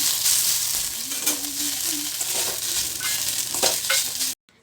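A paste of ginger, cumin and chilli fries loudly in a pan, a dense close sizzle with scraping stirs throughout, ending abruptly.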